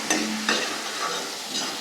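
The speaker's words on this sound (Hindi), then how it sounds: "यहाँ पे दाल बन रही है, फिर भात बन गया है, और ये दाल तड़का।" Dal tadka sizzles in a pan as it is stirred in a home kitchen, a soft frying hiss with two sharp scraping stirs near the start and another near the end, no speech.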